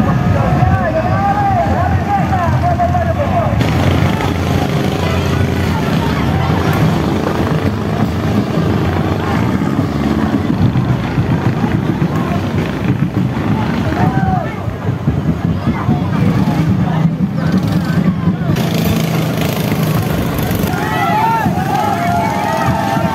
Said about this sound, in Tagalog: At isa-isa na nga dumarating ang mga bangka.